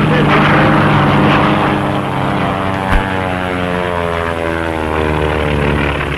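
A 1935 racing propeller airplane roars loudly in flight, a steady buzzing engine drone with shifting pitch that stays strong throughout.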